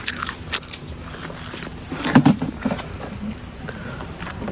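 A single crisp crunch of teeth biting into a freshly picked apple at an outdoor apple-picking farm in Japan, close and brief, set against steady outdoor background noise with a few soft rustles around it.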